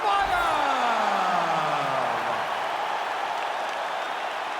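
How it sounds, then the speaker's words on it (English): Arena crowd roaring and cheering in the UFC 2 fighting game as Hamzat Chimaev faces Paulo Costa, a steady loud wash of noise that slowly fades, with a descending whooshing tone at the start. "you can hear the crowd response with everything that this man does"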